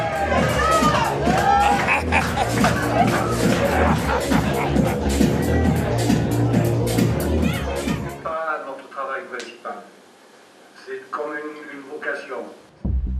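Festive crowd at the close of a talent show at a Greek holiday spot, a loud dense roar of cheering and shouting over thumping music, then breaking off into quieter scattered voices and chatter.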